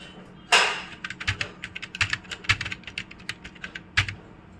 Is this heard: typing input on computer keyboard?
yes